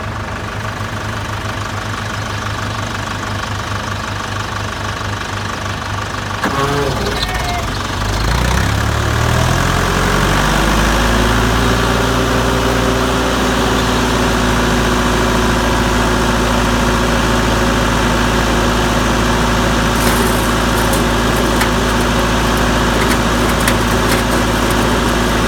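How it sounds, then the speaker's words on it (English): A feed grinder grinds corn off wagons with a loud, constant mechanical roar; an engine pitch shifts and settles into a steady drone partway through, with no talk. "we're going to grind corn until the tank is topped off"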